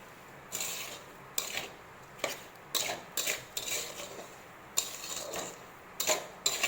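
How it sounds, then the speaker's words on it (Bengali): A spoon scrapes and stirs a thick mixture of melted sugar and grated coconut in a pan, in repeated short rhythmic strokes against the metal, close and clear with no talking. "এটাকে যতক্ষণ না একদম গলে শুকিয়ে যাচ্ছে ততক্ষণ এরকম নাড়িয়ে যেতে হবে, নাড়তেই হবে যাতে নিচে না লেগে যায়"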